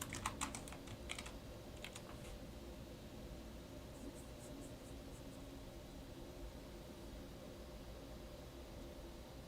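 Computer keyboard typing at a command prompt, a few brisk keystrokes at the start and later a light patter, faint beneath a steady hum and hiss.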